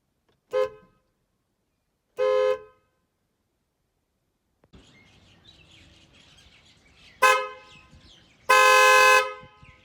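Roots Windtone Skoda-type car horn, newly fitted to a Maruti WagonR VXi, sounds in short sharp honks: two brief blasts, a pause with faint background noise, then two more louder toots, the last held longer.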